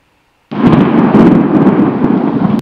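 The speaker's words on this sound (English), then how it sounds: "that's our lightning effect" A sudden loud thunderclap with crackling lightning from a rain-and-thunder effect in a Construct 3 game, bursting in after a half-second of near silence and rumbling on for about two seconds.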